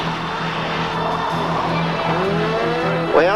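Race cars roar past at speed on a track, a loud sustained engine drone with a brief tire squeal as one sweeps by near the end.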